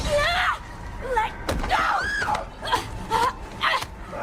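A shrill scream from the Resident Evil Requiem video game rises and falls in several sharp bursts, mixed with thuds and other game sounds.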